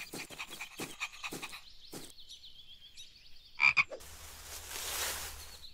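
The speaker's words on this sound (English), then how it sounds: "You'll scare the frog away." A frog croaks in a series of short rhythmic pulses, fairly close, followed by a brief louder call and a rustling hiss, with no talking.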